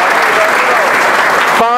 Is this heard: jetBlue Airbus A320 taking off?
no